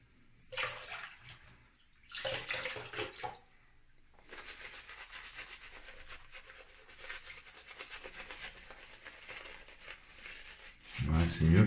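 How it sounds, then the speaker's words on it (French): Water is worked into a creamy fougère shaving soap, giving wet rubbing and swishing bursts in separate strokes and then a longer steady lathering stretch, close and fairly quiet, with someone speaking softly in the pauses. "On va rajouter un peu d'eau."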